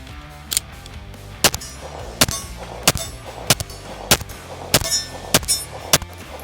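A Tisas SMGA Service G.I 1911 pistol fires 230 grain ball ammunition outdoors, producing a string of loud, sharp single shots at a steady, unhurried pace, each followed by a brief ringing clang.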